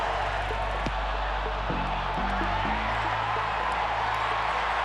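A rugby crowd in a stadium roars steadily after a try, a broad, sustained wall of cheering with no clear break.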